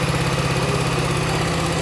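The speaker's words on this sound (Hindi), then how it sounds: "ये इसका आइडल साउंड है" Close, steady idle of a BSA Gold Star 650 motorcycle engine, a low, even thumping throb held for just under two seconds with no talk.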